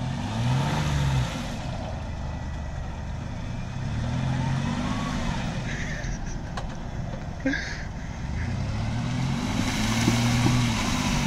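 A tractor drives with a steady, loud engine drone and low rumble across the whole stretch, while faint voices surface now and then.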